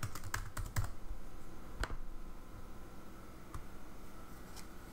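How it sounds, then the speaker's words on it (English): Fingers tap out a password on a computer keyboard, a quick cluster of clicks at the start, then a few scattered keystrokes over a quiet room hum. "I'm gonna put my password"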